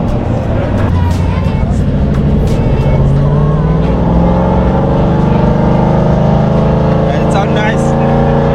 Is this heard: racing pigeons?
no